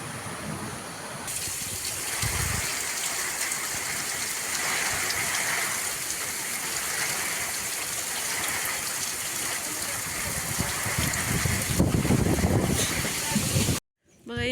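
Steady, heavy rain pours in a dense, even hiss over farm fields for the whole stretch. It cuts off abruptly near the end.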